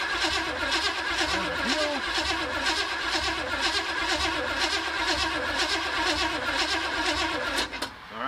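A Chevy 350 V8 in a C10 squarebody truck cranks over steadily and continuously, loud and close, with a brief change near the end.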